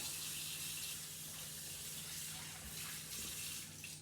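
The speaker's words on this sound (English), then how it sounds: "You need to wash your hands." Hands being washed under a running kitchen tap, a soft, steady stream of water with slight splashing that changes a little toward the end, fairly quiet and with no talking.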